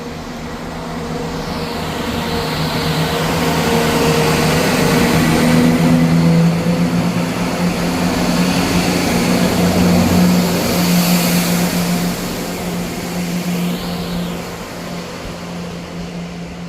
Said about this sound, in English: Departing out now is the 1216 ScotRail service from Edinburgh Waverley to Leaving.